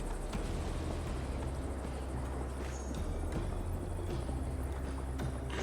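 Horse hooves galloping in Assassin's Creed Valhalla, a steady rapid clip-clop continuous throughout under a dense, loud in-game ambience of wind and riding noise.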